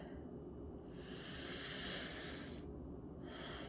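Deep, slow breathing during a facial breathing exercise: two long hissing breaths, close and soft, separated by a short pause, with no speech.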